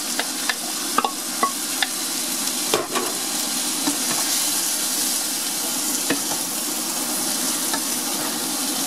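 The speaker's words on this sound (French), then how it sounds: "on va y plonger notre morceau de potimarron" Pieces of red kuri squash frying in a pot: a steady, loud sizzle runs throughout, with a few light taps and scrapes of a spoon stirring near the start.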